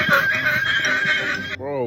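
A real horse neighs in a long, loud, wavering whinny that ends in a short trembling snort-like tail, close to the microphone and heard alone.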